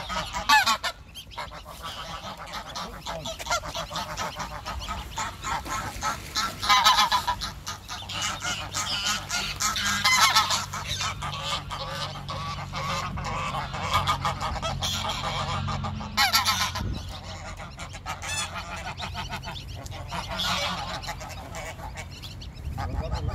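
A gander honks repeatedly and loudly, harsh nasal calls coming in a long series, with other fowl calling nearby.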